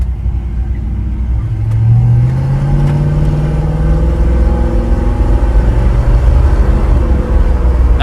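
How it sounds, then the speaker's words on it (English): The engine of a 1965 Ford Ranchero pickup rumbles loudly and climbs steadily in pitch as it accelerates from inside the cab. "I'm gonna give it a little bit of gas"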